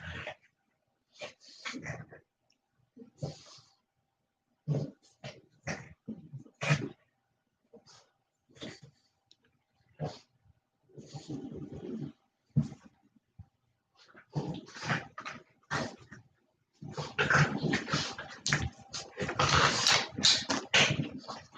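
Dogs bark and whimper in a long series of short, uneven bursts separated by brief silences, growing busier and louder toward the end.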